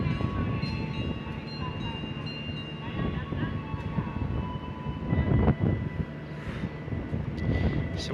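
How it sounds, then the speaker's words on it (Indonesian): Wijaya Kusuma passenger train moving through Kalisat station in Indonesia, a sustained loud rumble with wheel and engine noise carrying on throughout, and voices heard faintly beneath it. "langsung aja kita di sini tunggu bersilang kereta api Wijaya Kusuma"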